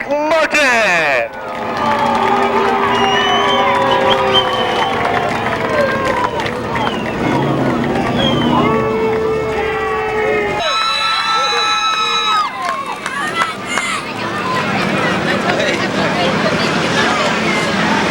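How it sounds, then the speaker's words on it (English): A speedway crowd at Seekonk Speedway cheers and shouts for a race winner at a Pro Stock feature, a loud, sustained roar of voices and whoops filling the air, with some individual shouts standing out. "Ladies and gentlemen, a big round of applause for Radical Rick Martin."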